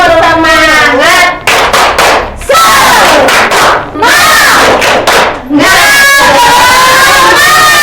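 Class of schoolchildren chanting the tepuk semangat clapping chant in unison, loud shouted voices with rhythmic hand claps in quick bursts, close to the microphone.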